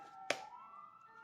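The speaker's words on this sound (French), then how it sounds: "Les ambulances." An ambulance siren wails faintly in the distance as a steady rising tone, briefly cut by a sharp click up close.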